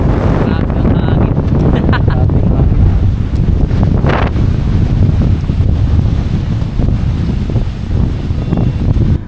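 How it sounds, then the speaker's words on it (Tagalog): Strong wind gusting across a mountain trail on Mt. Malindig in Marinduque during rain, a loud continuous roaring rush buffeting the microphone throughout, with a voice speaking briefly over it. "Grabe ang hangin."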